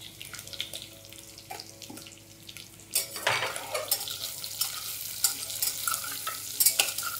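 Onion pieces fry in oil in a pan for paneer biryani, a steady close sizzle with bursts of scraping and clinking as they are stirred, growing busier halfway through, no talk over it.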